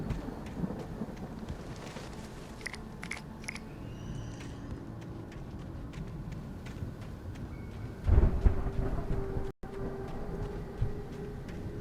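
Thunderstorm in the video game Alan Wake: steady rain hiss with low rolling thunder, a louder crack-like burst partway through, no voices.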